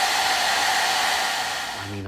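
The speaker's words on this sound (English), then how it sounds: "I've been doing these hairdryer tests for years now" A two-speed hair dryer in a cruise ship balcony cabin blows steadily on its top hot setting, a loud close whoosh with a whine that holds for two seconds and then eases slightly.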